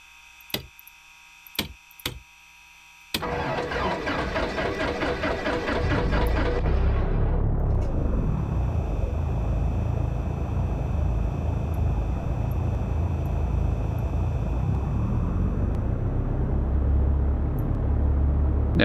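Propeller aircraft engine in the X-Plane 11 flight simulator, heard after a few sharp clicks as the starter cranks, then the engine catches and settles into a loud, steady, rumbling drone that continues to the end.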